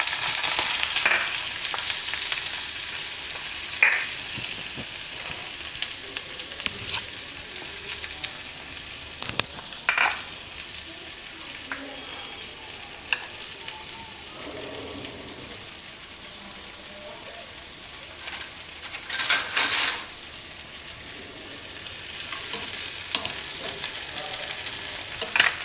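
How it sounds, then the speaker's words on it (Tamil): Sliced onions frying in hot oil for a paneer masala dosa filling, a steady close sizzle with occasional stirring scrapes and louder crackling bursts, no talk. "எண்ணெய் காஞ்சோடனே வெங்காயத்தை போட்டு வதக்குவோம்."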